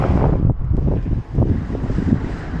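Strong, gusty storm wind on Pico Island in the Azores roars steadily, buffeting the microphone with low rumbling and brief dips in intensity.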